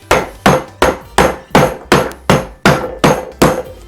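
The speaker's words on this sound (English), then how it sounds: "So roll that up and get to smacking." Ten loud, evenly spaced smacks land on a rolled-up bundle filled with ice, each a sharp close thwack with a short decay, coming about twice a second with no talk.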